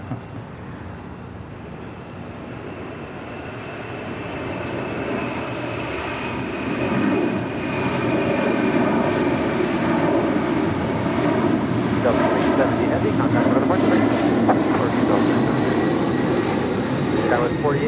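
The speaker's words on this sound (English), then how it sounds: "That was the flight heading to JFK in that 767-300ER" A Boeing 767-300ER jet bound for JFK roars at LAX, engine noise swelling and growing louder as it passes, with a rising whine and heavy rumble, while a voice talks over it.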